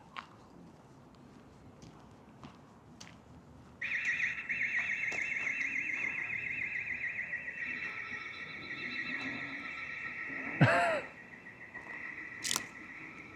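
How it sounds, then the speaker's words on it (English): Building alarms inside an abandoned hospital in Aberdeen blare as a piercing, sustained electronic tone that switches on abruptly and holds for several seconds, with sharp clacks and faint voices nearby. "I've honestly just set off all the mad alarms"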